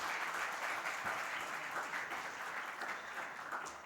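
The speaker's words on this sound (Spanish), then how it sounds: "Un aplauso para Dani." Seminar audience at a sports science event applauds a presenter, a continuous even wash of clapping from a roomful of people that gradually softens toward the end.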